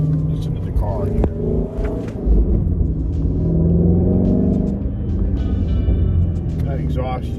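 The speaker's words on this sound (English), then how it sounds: "That exhaust is so much fun." A Ford Mustang's exhaust gives a low, continuous rumble, swelling slightly partway through, while a person talks over it nearby.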